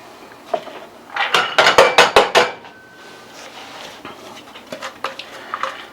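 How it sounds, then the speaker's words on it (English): Chopped onion and carrot are scraped into a metal saucepan, a quick run of sharp clattering knocks and pattering thuds, loud and close, followed by a few softer scattered taps. "put it in my saucepan"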